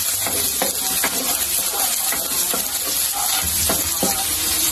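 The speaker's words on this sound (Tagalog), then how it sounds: "magigisa na tayo ng bawang. At sibuyas" Garlic and onion sauté in a pan for pork spare ribs adobo, a loud, steady, close sizzle with a spoon scraping and stirring at irregular intervals.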